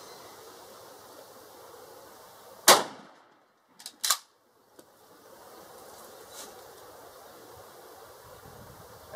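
A Remington 870 Wingmaster 16 gauge shotgun fires a single loud, sharp blast outdoors, followed a moment later by a couple of brief mechanical clacks against quiet background hiss.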